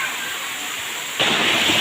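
Tham Soda waterfall cascading down in tiers along its stream, a continuous rushing roar of falling water, close and loud, swelling noticeably partway through.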